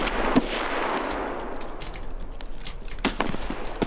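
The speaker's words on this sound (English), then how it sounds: "Oh shit, taking shots from Dickhead Rock." Rapid gunfire in the Escape from Tarkov shooter, a burst of sharp cracks and repeated shots echoing with metallic clangs over a few seconds, fairly close and loud with no talk over it.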